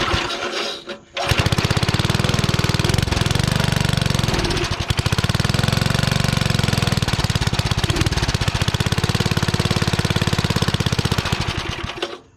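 A snowblower engine from an estate sale, its muffler soaked with oil, sputters a few times and then runs with a loud, steady, rapid chugging that holds close and even for several seconds before it cuts out.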